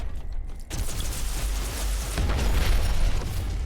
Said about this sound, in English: Didn't need to use the frag grenade.